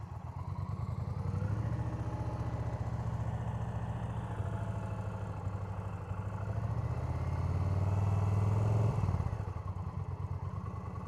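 A motorcycle engine runs steadily close by, its low throbbing rumble rising and swelling as the clutch is let out and the rider keeps the throttle loaded, then briefly dipping near the end, with no talking.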